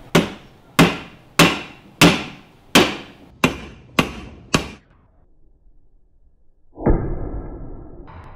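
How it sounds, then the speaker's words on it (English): Anvil dropped repeatedly onto a Tesla Model S battery in a torture test: eight sharp, loud metallic impacts at an even beat, each ringing briefly. A short pause follows, then a duller rumbling crash. "You're driving your Model S under an anvil."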